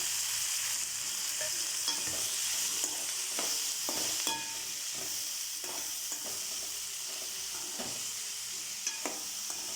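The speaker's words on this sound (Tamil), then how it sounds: "நல்லா வதக்கிக்கணும்." Curry leaves and pirandai sautéing in a pan make a bright, hissing sizzle with repeated light scrapes and taps of a stirring spoon throughout, close and unaccompanied by speech.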